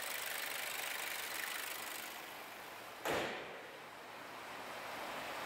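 Four-cylinder 1.4-litre turbocharged 150-horsepower petrol engine of a Skoda Octavia liftback idling, a steady hum with a brief louder whoosh partway through.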